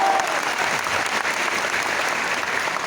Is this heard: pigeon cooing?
no